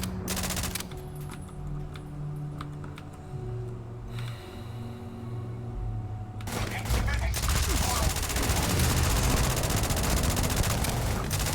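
Rapid gunfire rattles in the video game Starfield, bursts of automatic shots at first, then a denser, louder barrage in the final seconds, with faint game sounds underneath.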